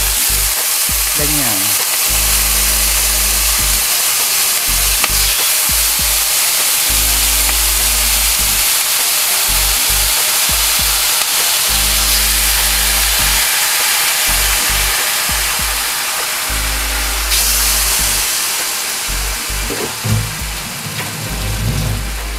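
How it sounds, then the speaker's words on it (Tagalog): Pork for humba fries in a little oil, a loud, continuous close-up sizzle with occasional stirring scrapes; a voice speaks briefly over it. "So piprituhin ko muna siya isa-isa. Konting mantika lang."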